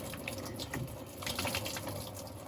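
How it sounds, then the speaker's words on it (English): Leftover water from an old pressure test runs and splashes out of opened shower pipe ends, a steady soft trickle with light gushing and dripping throughout. "I pressure tested this months and months ago, so there will be a bit of water in here."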